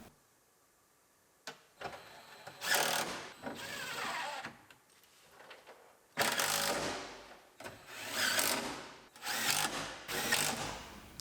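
Power tool bolting exhaust hangers onto a vehicle during reassembly: several loud bursts of drill or impact driving, each a second or two long, separated by short pauses and ratcheting clicks, close by.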